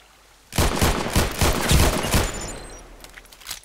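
Rapid burst of video game gunfire in Contract Wars, around six close, loud shots in a quick uneven rhythm that then trails off into a fading tail.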